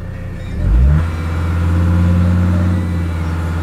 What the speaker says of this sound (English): Don't make a difference if you rev it up or not.